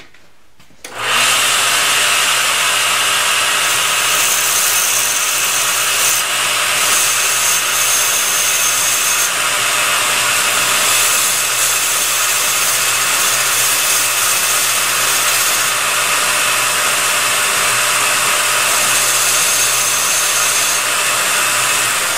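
A bench grinder grinds steel to shape a special tool for a 1903 Springfield rifle, a loud steady high whine running continuously for about twenty seconds after a brief quiet start, with no talking.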